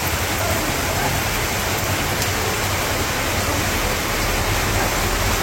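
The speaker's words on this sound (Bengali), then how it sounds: "বৃষ্টি কমে না, একটু কম ছিল, আবার নেমে গেছে।" Heavy rain pours down at a village market, a dense, steady roar of water lasting throughout, loud and close with no voices.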